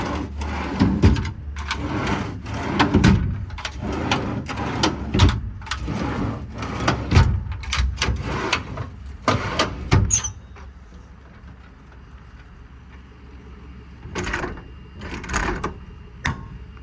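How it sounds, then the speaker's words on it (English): Used drawers in the service body of a 2007 Peterbilt 335 with a 14-foot IMT bed, sliding open and shut in a run of knocks, squeaks and rattles, followed by a quiet stretch and a few more close thuds. "Obviously a used set of drawers, but they actually slide fairly decent."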